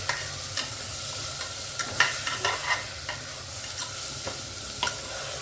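A spoon scrapes and clinks in a pot as turmeric and masala are stirred into dal khichdi, giving irregular sharp strokes over a soft background sizzle, close and alone with no talk.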